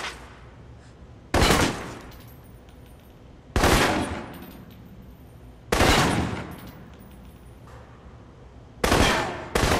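Assault rifle fire in Alpha Protocol: four separate loud bursts of rapid shots, evenly spaced with quiet stretches between them, each burst sharp and close.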